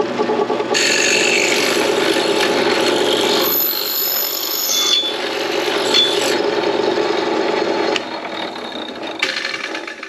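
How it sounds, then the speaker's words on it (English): A loud, steady drilling whine grinds on for several seconds as a hole is drilled in a metal throttle cable bracket, with a brief dip in pitch and a change near the end. "hopefully we could just drill this out real quick"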